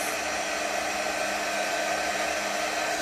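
A hair dryer blows on a chalk-paint ghost craft project, a steady even whooshing hum held at constant loudness from start to finish with no talking.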